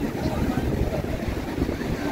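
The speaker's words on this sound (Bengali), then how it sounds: "আর ঢেউটা আসছে দেখো গাইস।" Sea waves at Puri beach, a continuous rumbling wash of surf with wind buffeting the microphone, moderately loud and unbroken.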